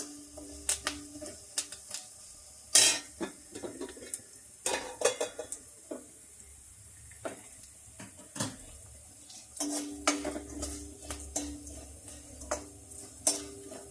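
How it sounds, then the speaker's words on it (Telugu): Tempering spices crackle and sizzle in hot oil on high heat while a spoon clinks and scrapes against the pan in scattered, irregular strokes. "హైలో వేయించేసుకుని బాగా ఎర్రగా వచ్చే వరకు వేయించుకోవాలి"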